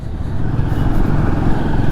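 A vehicle from Odisha passes close by on a road near the Kabini backwaters, a loud steady engine rumble with road noise and no voices.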